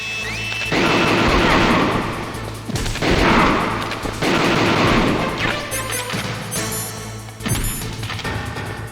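Gunfire in the video game Metal Gear Solid, loud and close: dense bursts of shots and crashing impacts come in several waves with brief lulls between them, ringing metallic tones above.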